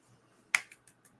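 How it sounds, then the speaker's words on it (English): A single sharp, close finger snap or soft clap on a live stream, followed by a few faint lighter taps. "You get the soft live stream clap."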